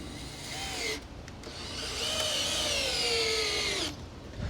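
A cordless drill whines steadily while it drives screws into scrap wood. Its battery is dying, so the motor pitch sags and falters, with brief pauses between long bursts of rough grinding.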